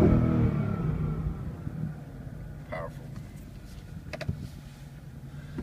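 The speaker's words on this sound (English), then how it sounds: "inside the vehicle here when I rev it." A 2015 Ford Mustang GT Performance Package is revved, heard from inside the cabin: a loud engine swell at the start fades back to a low idle, with a few faint clicks.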